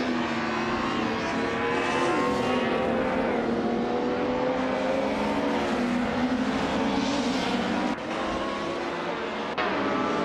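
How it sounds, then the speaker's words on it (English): A 1986 Alfa Romeo 75 competing in the Group M class of a racing video game, its engine droning steadily and loudly with shifting pitch as it revs, with a brief dip near the end. "Seangang is driving a 1986 Alfa Romeo 75 in the Group M class."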